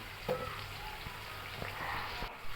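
Turmeric, chili and coriander powder fry in a pan, giving a soft, continuous sizzle with a few faint stirring taps, close and fairly quiet.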